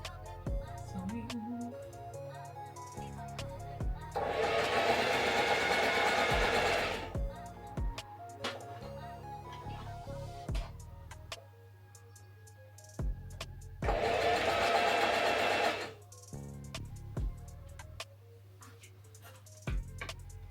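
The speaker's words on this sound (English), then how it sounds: "Sewing." Electric sewing machine stitching quilt pieces for improv piecing, running in several bursts of steady whirring with pauses between, close and fairly quiet, with no talking.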